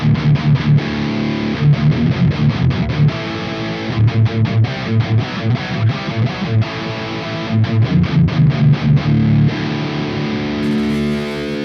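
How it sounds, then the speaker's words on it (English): Loud electric guitar with heavy distortion plays chugging rhythmic chords and riffs, thick and saturated, continuing steadily with brief stops. "great, heavy distortion sound"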